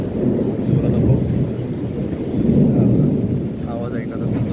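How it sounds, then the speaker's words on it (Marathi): Thunder rumbles low and heavy outside during a storm with heavy rain, a continuous loud roll that swells and fades over steady rainfall. "बाहेर येते गडगडत आहे"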